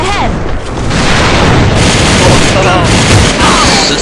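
A loud, close enemy grenade blast in the shooter game AVA, a booming broadband roar that swells and sustains through the moment amid gunfire-like crackle.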